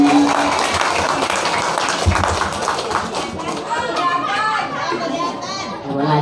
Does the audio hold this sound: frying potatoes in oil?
no